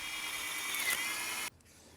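A drill bores into the seam between two boards clamped together, a steady high whirring grind that runs for about a second and a half and then stops abruptly, close and alone.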